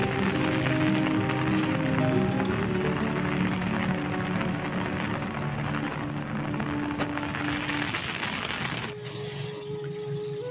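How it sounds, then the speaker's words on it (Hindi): Heavy rain pours steadily on a village, a continuous dense hiss with a faint low hum underneath. The texture thins slightly in the last seconds, and there is no talking. "बारिश बहुत तेज़ बारिश हुई है।"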